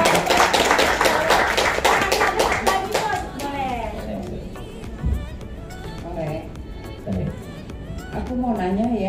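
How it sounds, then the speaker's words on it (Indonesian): Audience applause at an Indonesian sharing session on exercise and joint health: a burst of hand clapping from a crowd fills the first few seconds, then fades as talk and murmuring voices take over. "ya Bapak itu tepuk tangan dong"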